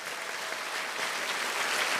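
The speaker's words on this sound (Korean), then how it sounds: "박수 한번 쳐주세요." A church audience at a Korean festival service claps in a steady, dense round of applause, fairly soft and distant, continuing evenly for two seconds.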